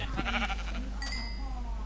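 A grey sheep in a video game bleats once with a short nasal tone, set over a steady low hum and busy background game sounds.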